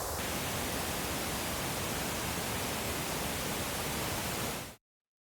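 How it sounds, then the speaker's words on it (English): Steady broadband pink noise test signal runs loud and unbroken for several seconds before cutting off abruptly, with no other sounds. "by sending pink noise through the multiband compressors"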